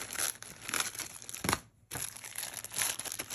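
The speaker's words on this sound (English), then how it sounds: "Let's get everything unwrapped." Plastic and paper packaging from a new Daiwa Tatula LT 3000D-CXH spinning reel crinkles and tears up close, a steady rustling broken by one brief pause before the crumpling resumes.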